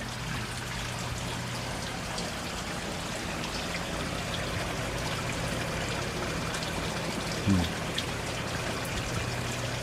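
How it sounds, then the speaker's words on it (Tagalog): Seawater showering down from a PVC pipe into a basin at a backyard mud crab farm, a steady broadband trickling and splashing wash that runs throughout with a brief louder splash near the end. "May tubo, PVC. Tapos, nagsha-shower ng tubig dagat. Pababa, papasok dyan sa planggana."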